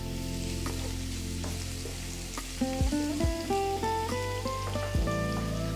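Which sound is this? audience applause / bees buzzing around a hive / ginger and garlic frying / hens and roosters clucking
ginger and garlic frying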